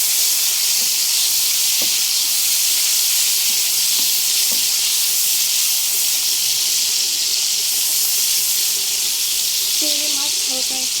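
Shrimp sizzling in hot oil in a wok while red amaranth greens are being fried, a steady broadband hiss running loud and continuous throughout with a few faint clinks and stirring sounds.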